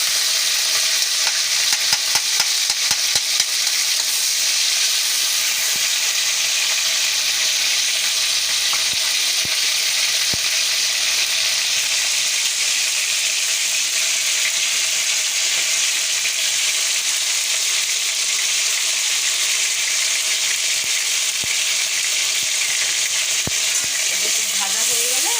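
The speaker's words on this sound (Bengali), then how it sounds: "পেঁয়াজ আর রসুন দিয়ে দিলাম তেলের মধ্যে।" Chopped onion and garlic fry in hot oil in a pan, giving a loud, continuous sizzle that starts with a few crackles and then settles into a long, even hiss.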